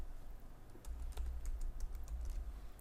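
Fingers tap out an IP address on a computer keyboard during server provisioning setup, a quick close run of light clicking keystrokes starting just under a second in and continuing steadily to the end, with no talking.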